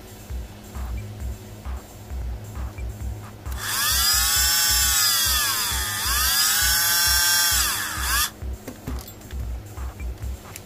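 A Dremel rotary tool whines at high pitch for about five seconds, its pitch sagging and recovering as it cuts into an earbud shell, with quieter handling noises before and after.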